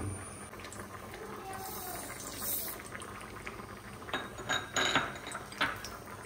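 Grated coconut fries in hot oil in a pan, giving a continuous bubbling sizzle with occasional louder crackles and clinks of a utensil against the pan.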